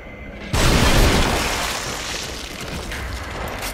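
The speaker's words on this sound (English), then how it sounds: "it looks like one explosion and then one of those kills him" A single loud explosion erupts in the horror video game The Evil Within, a sudden booming burst that rolls into a long, slowly fading rumble.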